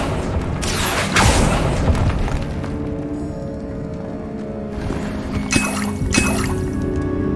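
Accio spell cast in Hogwarts Legacy, a whooshing magical burst followed by a lingering rumble and shimmering tail, then a second brighter swell near the end, no talk over it.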